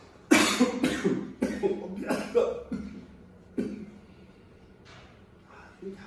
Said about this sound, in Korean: 약을 먹어도 기침을 계속 하네.